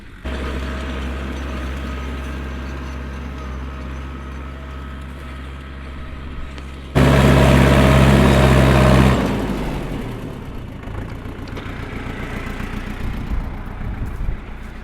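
A DW404 small tractor pulling a two-bottom plow runs steadily, then surges louder for a couple of seconds as it strains under load before settling back to a working drone.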